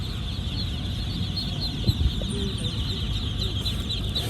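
A dense chorus of peeping Barbary ducklings chirps continuously in the background, with a few low thumps and handling noises partway through.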